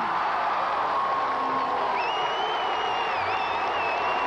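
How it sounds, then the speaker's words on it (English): Georgia Bulldog fans clapping and cheering in the stands at the 2001 NCAA gymnastics championships, a steady broad wash of arena applause with a few whistles rising near the end. "Father Cliff in the stands applauding, and the rest of the Georgia Bulldog fans"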